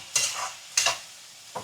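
Beans fry in a pan, stirred in three quick scraping strokes over a faint, low sizzle, close by and with no talking.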